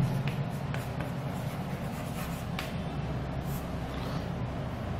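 Marker or chalk scratching across a board as a physics teacher writes notes during a mathematics lesson, with steady close strokes and a few sharper taps and no speech.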